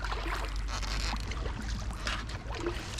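Canoe on a very shallow river, with a steady rough scraping and rushing water sound as the hull drags over the bottom, close and continuous, with faint trickling mixed in.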